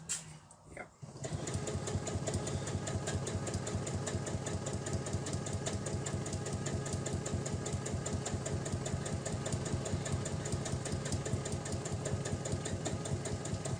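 Sewing machine running steadily and close for the whole stretch, stitching the seams of a fabric face mask with a fast, even needle rhythm after a short quiet start.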